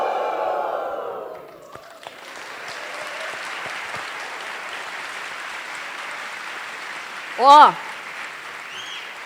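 A hall crowd at a political debate booing, a sustained broad wash of jeering that follows a speaker's raised voice and carries on steadily, with a brief vocal cry near the end.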